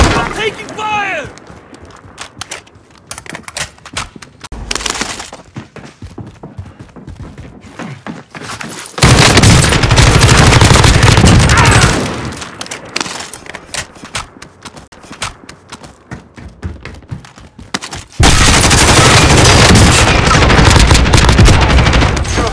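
Call of Duty Warzone battle sounds: loud sustained bursts of automatic gunfire in two long stretches, separated by quieter passages of scattered shots, clatter and a voice talking.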